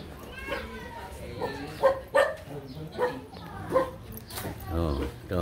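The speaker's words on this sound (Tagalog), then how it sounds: "Oh, ito, may aso rito." A dog in Tarlac, Philippines gives several short barks and yips at irregular intervals, with people talking nearby.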